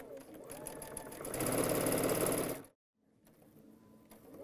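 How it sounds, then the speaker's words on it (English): A sewing machine stitches a fabric seam, its fast rhythmic needle chatter building louder for about a second before cutting off, then a quieter stretch of handling follows. "I'm going to sew this up"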